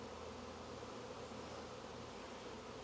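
A swarm of bees buzzes in a steady, dense drone, close and continuous with no voices.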